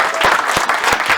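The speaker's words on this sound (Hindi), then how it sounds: "एक बार जरा तालियां बजाएं सर के लिए।" A brief burst of dense audience applause at a premiere of student short films, loud and close, filling the whole moment without any speech.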